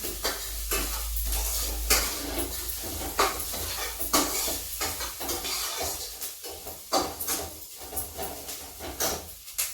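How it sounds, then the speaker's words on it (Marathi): Onion roasting in a pan for stuffed eggplant, with coriander and garlic, steady sizzling and hissing with frequent rhythmic scraping and stirring clatter of a utensil against the pan. "कांदा आपण भाजत आहे"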